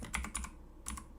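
A few quick keystrokes on a computer keyboard, two short bursts of close, soft clicks separated by a pause, with no talk.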